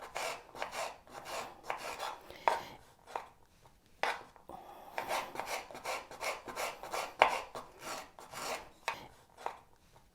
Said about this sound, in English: when you peel your orange, you're going to slice the peel like that